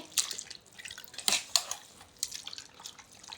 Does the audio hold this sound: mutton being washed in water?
yes